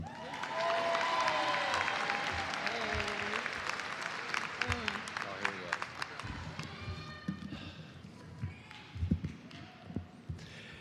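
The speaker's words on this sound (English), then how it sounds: "Can we give her another round of applause" A graduation audience at a high school ceremony applauds the valedictorian, a broad wash of clapping that thins out into scattered claps and footsteps, with a voice speaking over the fading applause.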